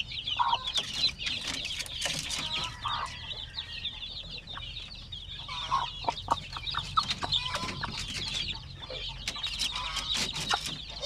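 Native hen and chicks cluck and peep busily while being fed, with sharp pecking taps and scratching up close and no voices over them.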